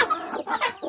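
A hen that has just hatched six chicks clucks in a few short, close bursts at a backyard coop, clear and alone.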